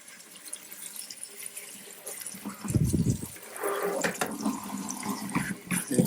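Hot water runs and splashes while a dirty RC car is being washed, a low rushing and spattering that swells midway and carries on steadily, fairly quiet and close.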